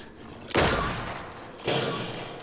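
Two loud gunshots in the video game Alan Wake 2, each a sharp close blast with a long fading tail, about a second apart, with no talking.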